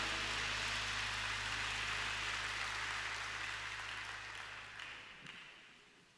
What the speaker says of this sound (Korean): 우리 사랑하는 주님 앞에 우리 감사의 박수 올려드립시다.